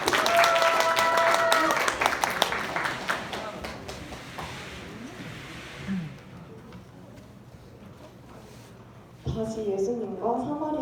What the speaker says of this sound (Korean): 큰 박수로 선막 시작하겠습니다